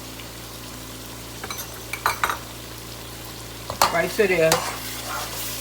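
Onions frying on high heat in a pot for a spicy thiebou yapp onion sauce, with a low steady sizzle and a few brief scrapes and clatters of stirring, while someone speaks briefly nearby.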